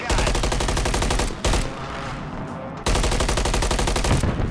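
Rapid automatic gunfire in the video game Warzone, loud and close in long sustained bursts, with a short quieter gap between the two main bursts.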